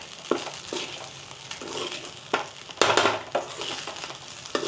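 Jeera rice being stirred in a pan, with a soft sizzle running underneath and a handful of distinct scraping and tapping strokes from the spoon against the pan, a couple of them sharper and louder, all close and without talk.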